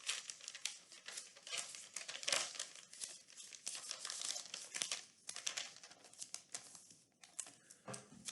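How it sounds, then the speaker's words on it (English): Sheet of paper being folded and creased close up, a quiet run of crinkling and rustling with sharper crackles scattered throughout. "I'm going to just fold this more."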